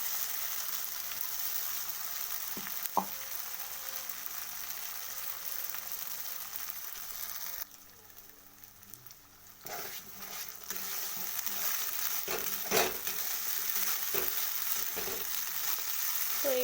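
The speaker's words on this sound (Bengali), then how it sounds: "তো এটাকে ভালো করে ভেজে নেব।" Ground urad dal paste frying in ghee with asafoetida, a soft, steady sizzle that drops away briefly midway before returning, with a few faint stirring clicks and no speech.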